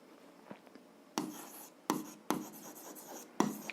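Pen strokes scratch across paper while an algebra solution for a 7th-grade exercise is written out by hand, coming in several scratchy bursts with short pauses between them, close and fairly quiet, with no talking.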